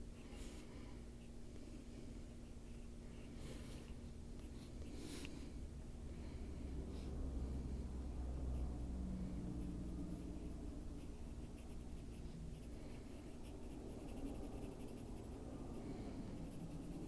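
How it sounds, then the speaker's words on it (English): The sharp edge of a pencil scratches small divots and cracks into drawn rocks on paper, a quiet, close, steady scratching that continues without talking. "Just the sharp edge of your pencil."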